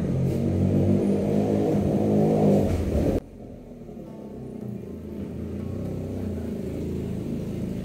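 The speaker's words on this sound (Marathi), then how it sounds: "त्याच्या गाडीचा आवाज" A cousin's car arrives with a loud, close engine hum that cuts off abruptly after about three seconds, leaving a lower, steady rumble of a vehicle idling or moving nearby.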